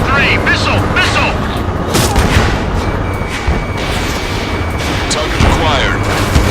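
Missile launch and explosions in the Ace Combat 7 jet combat game: rumbling booms and a whooshing streak over steady engine roar, with radio chatter voices talking throughout.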